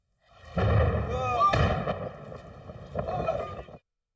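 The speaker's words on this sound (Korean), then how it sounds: "소방차가 화재를 진압하는 중에도 폭발이 계속됩니다." Explosions at a burning chemical factory boom out as firefighting goes on, a rolling blast and rumble lasting a few seconds, with a crackling roar and a second swell before it cuts off.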